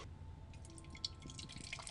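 A drink poured from a bottle into a glass, a close, quiet trickle of liquid with a few sharp drips standing out, no talking over it.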